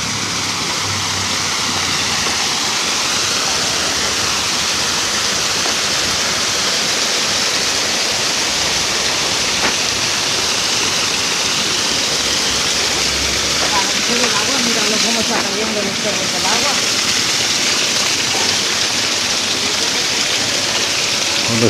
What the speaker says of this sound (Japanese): 小さな滝になってます。